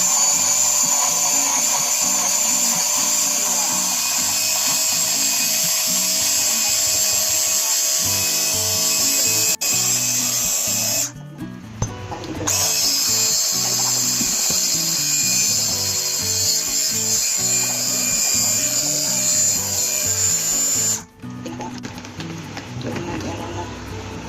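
A kitchen blender runs through a thick avocado ice cream mixture with a steady, loud mechanical whir and a rhythmic churning pulse, cutting out briefly twice before starting up again.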